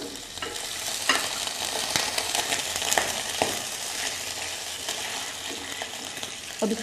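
Garlic and spices sizzle and crackle in a hot pan for masala pulao while being stirred. The frying is loud and continuous, with scrapes of the stirring utensil now and then.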